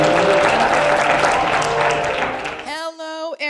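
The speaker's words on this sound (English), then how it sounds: "Let's give her a big round of applause." Broad, steady applause from an audience at a realtor business development event, loud and continuous for nearly three seconds, then cutting off to a sustained tone with a voice speaking.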